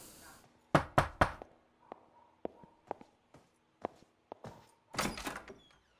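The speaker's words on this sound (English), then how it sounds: "I'm knocking all the neighbors." Several knocks on a door in the video game LA Noire, sharp separate raps in small bursts with a quiet pause between, close and fairly loud, followed by a louder rustling thump near the end.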